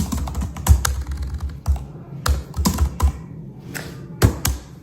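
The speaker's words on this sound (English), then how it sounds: "Let me just kind of like type this into Amazon." Fingers tap away at a computer keyboard in irregular bursts of clicky keystrokes, close and fairly loud, with short pauses between runs and no talking.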